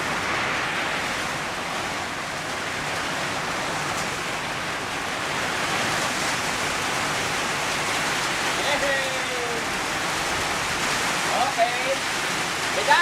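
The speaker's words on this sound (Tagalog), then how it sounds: "Umuulan eh." Steady broadband rain at night, a constant hiss of drops on surfaces, continuous and moderately loud throughout with no pauses.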